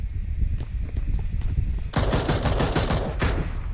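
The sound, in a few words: gunfire in the video game PUBG Mobile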